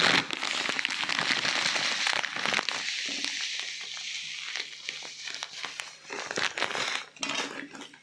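Whole cumin seeds and black and white mustard seeds sizzling in hot oil, a dense, steady crackle and spatter with sharp pops throughout, close and loud, easing slightly then flaring again near the end.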